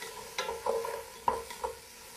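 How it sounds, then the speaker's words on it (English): Browned onions and fond being stirred around a pot for a curried goat stew, giving a few separate scraping strokes over a soft sizzle, close and moderately quiet, with no talking. "So we're just going to stir that around."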